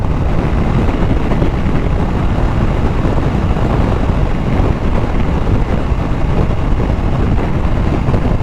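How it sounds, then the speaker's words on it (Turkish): Steady, heavy wind roar buffeting the microphone while riding a 2022 Husqvarna Norden 901 motorcycle, continuous and loud throughout, with a low rumble underneath like riding at speed. "Rüzgar harici bir problem yok."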